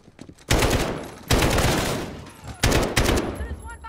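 Gunfire from Call of Duty Modern Warfare erupts in loud, sharp bursts, with three heavy volleys of shots cracking out one after another and each tailing off into echo.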